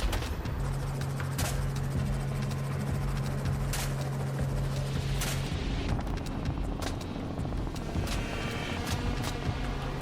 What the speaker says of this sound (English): The roar of the helicopter engine fills the air.